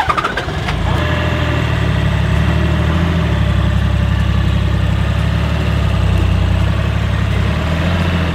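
A turbocharged Toyota Troopy diesel idles steadily with a low, heavy rumble throughout, the engine running loud and close with a rough, lumpy beat as if near stalling.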